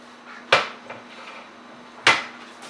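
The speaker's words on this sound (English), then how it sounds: "Now this is a stoneware dish that I got from Pampered Chef a long time ago" A stoneware Pampered Chef baking dish knocks twice against a hard surface, two sharp distinct clacks about a second and a half apart in a quiet kitchen with a faint steady hum.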